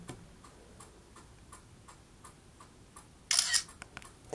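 iPod 5 camera shutter firing once as a photo is taken, a short bright click burst standing out against quiet, faint ticking in the background, with no talking.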